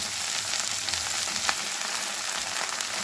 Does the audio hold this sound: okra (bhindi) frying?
yes